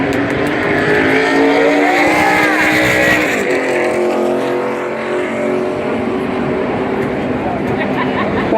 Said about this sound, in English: Jimmy, some very aggressive racing there at the end of stage one